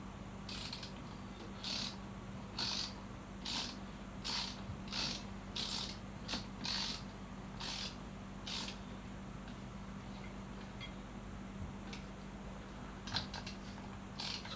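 A ratchet with a 22mm socket snugs down the fork cap on a Yamaha FZ6R motorcycle during a fork rebuild, giving quiet, close bursts of rapid clicking in an uneven rhythm with brief pauses between strokes.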